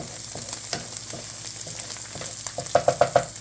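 Onions for a potato and onion pierogi filling fry in a pan, caramelizing with a steady close sizzle and crackle; soft stirring scrapes build into several louder spatula knocks near the end.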